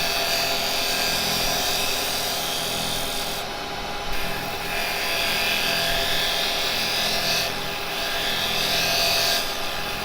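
A carbide chisel shears wood on a woodturning lathe, giving a steady broadband rasping hiss with a few brief dips and swells as the tool is rotated around the spinning piece.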